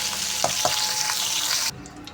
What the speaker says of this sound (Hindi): देखिए गोभी के साथ मिक्स करके इसको फ्राई कर लेंगे